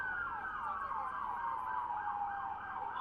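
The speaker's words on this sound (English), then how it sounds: "got more police cars coming in at code 3. Lights and sirens coming down Broadway" Police car sirens wailing during a night of street protests on Broadway in San Diego, a continuous rising and falling electronic tone, loud and steady with a faint road rumble beneath.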